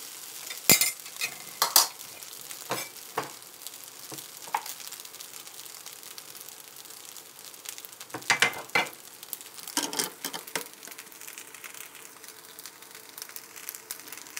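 Spatula scraping and stirring fried rice with canned fish in a pan, with intermittent clanks and scrapes over a soft sizzle, bursts clustered early and mid-way, then quieter cooking hiss.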